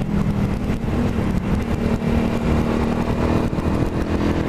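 A motorcycle rides slowly along a road on a warm day, its engine a loud, steady mid-range drone with slight throttle wavering and wind rush throughout, close and continuous.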